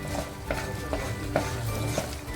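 Whole spices fry in hot oil in a pan for a mutton masala, a soft continuous sizzle punctuated by a few light rhythmic scrapes of a spoon stirring against the pan.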